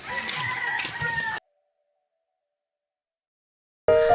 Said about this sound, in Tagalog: Napakadaming manok.